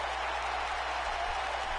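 A wrestling arena crowd cheers after a championship match, a steady, even roar of applause and voices with a low hum underneath throughout.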